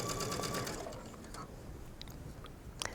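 A sewing machine stitches elastic onto mesh fabric, its steady motor whir loud and close for the first second before dropping to a quieter, continuous hum, ending with a couple of brief clicks.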